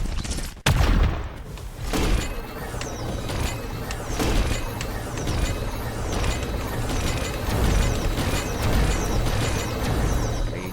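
Several turrets fire repeatedly in the Roblox game Jujutsu Shenanigans, a dense rapid barrage of mechanical shots and clanks with one sharp boom near the start, loud and continuous.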